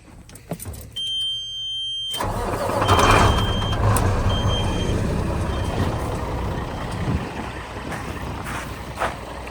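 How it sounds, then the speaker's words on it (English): A truck heavily loaded with corn pulls out, its engine rumbling low and loud after a short quiet start, with a high beeping tone at first and the drone holding steady throughout. "Will this truck be able to get out? It is heavy loaded."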